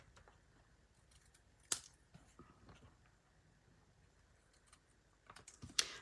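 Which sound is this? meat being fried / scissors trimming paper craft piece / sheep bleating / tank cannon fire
scissors trimming paper craft piece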